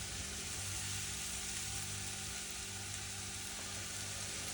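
Butter sizzles steadily in a frying pan before a French omelette is cooked, a constant dense hiss and crackle close by that runs without a break and with no speech.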